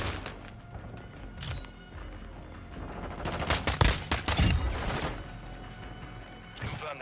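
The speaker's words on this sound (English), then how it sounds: "Throwing flash grenade!" Irregular bursts of gunfire and sharp cracks in a shooter video game, clustering into a dense loud barrage midway with a few scattered shots before and after.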